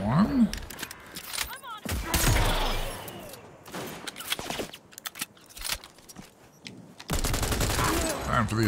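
Dense gunfire in the video game Cyberpunk, with rapid overlapping shots and bursts, loud and continuous through a fight near a gas station, mixed with game effects and voices.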